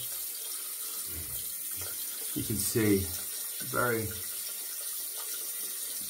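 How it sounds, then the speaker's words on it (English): Tap water runs steadily to rinse a disposable razor, a continuous wash under a voice speaking briefly. "You do want to rinse this disposable out, just like any other razor."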